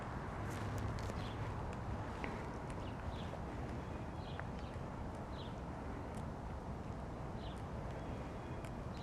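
Goat hooves walk across the ground at a goat handling and fitting show at Rutgers Day 2021, a faint, steady patter of irregular steps under a wash of outdoor crowd noise.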